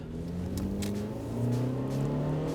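A 25-year-old automatic Honda of 106 horsepower accelerates hard, its engine droning steadily as the pitch climbs through a gear change, heard from inside the car with no talk.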